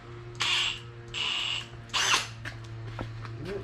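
A power drill runs in three short whirring bursts during a Dana 44 axle install on a Jeep, close and fairly loud, with quieter workshop sounds between them.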